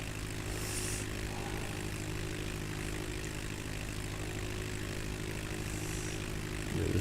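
Propeller plane engine from a flight simulator game, flying between Gary/Chicago International and Michigan City Municipal airports, drones steadily with a low harmonic hum throughout, loud and continuous with no talking.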